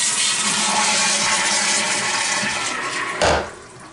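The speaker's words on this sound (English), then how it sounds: "Again, I start by flushing the toilet." A toilet flushing in an upstairs cabin bathroom, a close, loud rush of water running steadily for several seconds, then a sudden gurgling surge as the bowl drains, with no talking.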